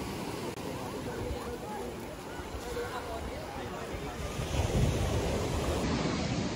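Ocean surf rolling onto Hahei Beach in New Zealand, a steady loud wash of breaking waves with heavy wind rumble on the microphone, swelling a little toward the end; faint voices may sit under the noise.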